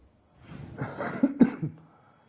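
A person coughing during a live Dragon Age: The Veilguard gaming stream, a short close cluster of several harsh coughs and throat clearing.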